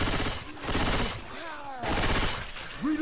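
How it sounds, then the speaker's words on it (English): Automatic gunfire bursts from Left 4 Dead 2, firing in loud rapid bursts with brief pauses in between, while a voice talks over the shooting. "Gotta let that burst fire."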